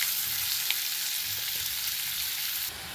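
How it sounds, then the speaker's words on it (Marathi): Onion fries in oil in a pan for a bitter gourd dish, producing a close, continuous hissing sizzle with a few faint stirring taps, dropping slightly in level just before the end. "कांदा लाल होईपर्यंत आपल्याला ह्या तेलामध्ये परतून घ्यायचा आहे।"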